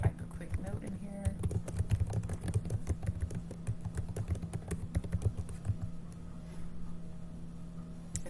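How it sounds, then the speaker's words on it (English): Keys clatter in quick irregular bursts as someone types a short note on a computer keyboard, fairly close, over a steady low hum. "So we're just going to type a quick note in here."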